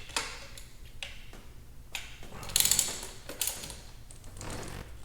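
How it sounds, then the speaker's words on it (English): Three T30 Torx bolts being backed out of the bypass grommet on a Hellcat supercharger, giving a run of close, light metallic ticks and ratcheting clicks with a brief louder burst midway, no talking. "And now we're just going to remove these 3 T30 Torx bits that hold the bypass supercharger grommet in place."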